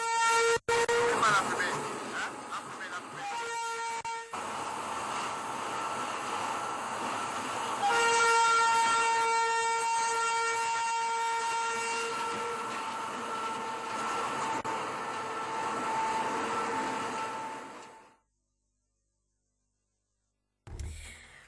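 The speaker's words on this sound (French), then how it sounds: "Il s'est annoncé aux populations comme à ses habitudes par son assourdissant klaxon." A train in Togo rumbles past close by and blasts a loud, sustained horn in several long blares, then the noise cuts off into near silence with a brief final thump.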